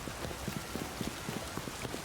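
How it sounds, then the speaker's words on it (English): Rain falling in a video game world, a steady soft patter of drops spread across the whole clip with faint irregular ticks, fairly quiet and without any voices. "Oh, it's raining."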